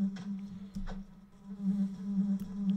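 Buzzing character flight sound from a 2D Unreal Engine 4 video game, a steady insect-like drone with slight wavering, moderately quiet and alone.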